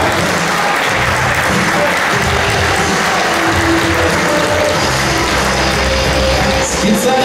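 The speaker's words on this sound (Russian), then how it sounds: "Друзья, аплодисменты за «Золотников»." Loud, dense applause from football club fans at a meet-up, a continuous roar of clapping with a rattling, ratchet-like texture and some crowd voices mixed in.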